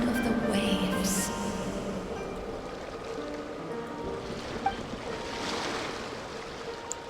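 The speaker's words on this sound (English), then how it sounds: "Go to where you can hear the sound of the waves." In Genshin Impact, ocean waves wash against the shore in a soft continuous surf. A few faint chimes and game effects sound over it early on.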